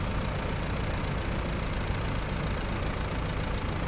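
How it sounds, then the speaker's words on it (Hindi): A tractor engine idles in the GTA video game, a steady, dense rumbling drone that holds unchanged throughout, loud and close with no talking. "आज हम लोग इस ट्रैक्टर की मदद से इस BMW को बाहर निकालेंगे।"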